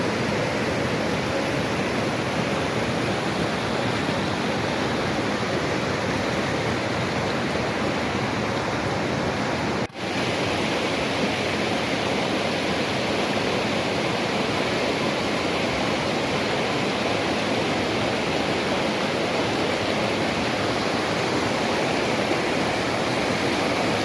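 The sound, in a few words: flowing stream water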